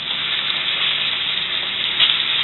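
Bison sirloin steaks just flipped in a hot pan sizzle with a loud, continuous, even hiss, close up and steady, with a small bump of crackle near the end; no talking.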